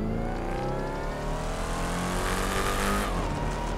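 Widebody Scat Pack Challenger in GTA 5, a loud, steady engine roar held near and continuous, its pitch slowly climbing and wavering as it revs.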